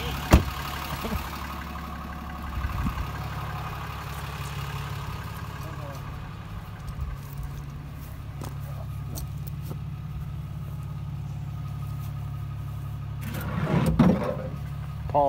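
Cummins diesel pickup in 4x4 idling and pulling a tree out by its roots with a chain, a low steady engine rumble close by under faint wind, with a clunk near the start and a louder rustle near the end.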